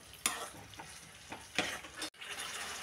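Masala frying in a pan for prawn biryani, with a quiet low sizzle broken by several scraping stirs of a spoon and a brief dropout, heard close and faint without any talking.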